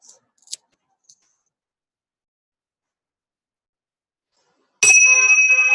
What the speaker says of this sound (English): That honk came exactly at the same time as the bell.